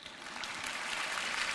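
An audience at a prayer gathering breaks into applause, a dense, steady wash of many hands clapping that holds at moderate volume throughout, with no voices over it.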